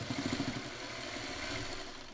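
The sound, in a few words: sewing machine stitching a quilt block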